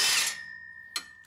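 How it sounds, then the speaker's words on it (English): An impact wrench spins off a 14 mm nut on a Honda Civic during a starter replacement: a loud, close burst of high-pitched whirring that fades over a fraction of a second, followed by one short sharp rattle. "We'll just pop them off with the impact."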